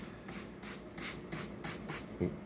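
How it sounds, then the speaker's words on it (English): A series of quick hissing spray bursts from a spray bottle misting pepper seedlings, about six in a steady rhythm, close by and moderately loud. "I'll give these peppers a spray."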